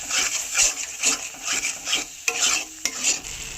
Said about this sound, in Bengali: এবার ভালো করে মশলা কষাবো।